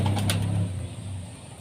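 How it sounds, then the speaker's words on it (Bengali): Pigeons coo softly inside a loft, a few low cooing calls close by fading over a quiet background hum. "সব পায়রা ঢুকিয়ে দিয়েছি,"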